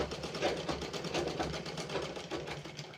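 Sewing machine stitching a seam during a beginner tailoring lesson, a steady close rhythmic whirring and clatter of rapid needle strokes running continuously.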